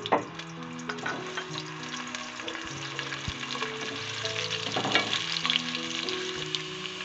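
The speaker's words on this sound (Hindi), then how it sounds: "मैं ऑयल गरम हो चुका है, मैं प्याज ऐड कर रही हूँ" Chopped onions sizzle and crackle steadily in hot oil in a home kitchen pan, a continuous close frying hiss with occasional stirring scrapes.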